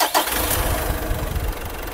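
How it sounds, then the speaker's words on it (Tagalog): A Mitsubishi Montero engine cranks and catches, then settles into a steady, loud idle with a low rumbling pulse close by, no talk over it. "ito po yung tunog mismo nung makina nito bago natin lagyan nitong Aeropack super oil treatment"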